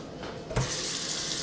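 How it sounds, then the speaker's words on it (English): Tap water gushes into a pot holding chicken and chicken powder, opening with a short clunk and then a steady close rush of running water filling the pot. "So you just gonna fill this up with water."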